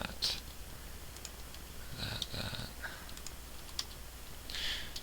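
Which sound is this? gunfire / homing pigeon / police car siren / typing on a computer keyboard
typing on a computer keyboard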